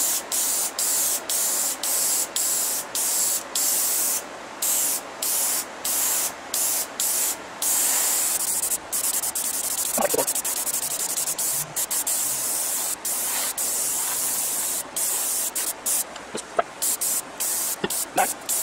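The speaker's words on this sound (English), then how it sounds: "But I did get my airbrush working" Airbrush spraying yellow paint onto a turned sycamore bowl, a loud continuous hiss broken by many short pauses as the trigger is released and pressed again.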